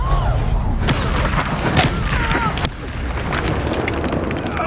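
Confringo blasting spell in Hogwarts Legacy on Xbox Series X, bursting in loud, booming explosions with crackling debris, a couple of heavy impacts in quick succession, while a voice calls out spell names over the blasts.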